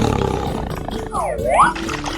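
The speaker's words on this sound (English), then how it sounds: "Tiger." A tiger roars in a 3D animal video game: one loud, drawn-out roar that swoops down and back up in pitch, set over cartoonish game music.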